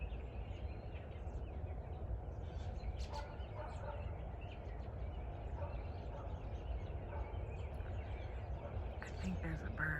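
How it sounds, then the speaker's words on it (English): A bird calls outdoors, its calls rising now and then over steady background noise and wind, while someone talks quietly nearby. "I think there's a bird."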